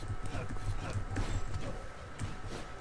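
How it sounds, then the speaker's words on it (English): Headless horses in Rogue Legacy gallop with rapid, clattering clip-clop hoofbeats that stay fairly loud and continuous under dense game noise. "So I've been killed by those headless horses. They do not stop running when you hit them."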